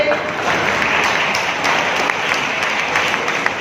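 Steady, dense clapping from a crowd at a celebration speech, sustained and fairly loud throughout with no pauses.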